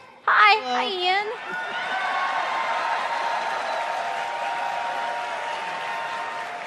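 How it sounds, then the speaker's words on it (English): An audience claps at a Blizzcon convention panel, a dense and steady round of applause that follows a brief spoken exchange and keeps going evenly until the end. "He got louder claps than you did."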